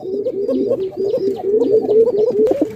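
Pigeons at a pigeon farm, loud close cooing in repeated rolling phrases that overlap continuously, with faint higher chirps above them.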